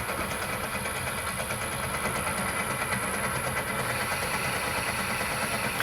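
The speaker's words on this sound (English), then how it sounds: "This is the head that I'm going to machine into a hexagon to match a 2BA nut." A Myford lathe machines a bolt head into a hexagon sized to match a 2BA nut, giving a loud, steady mechanical drone with continuous rattle and no pauses or talk.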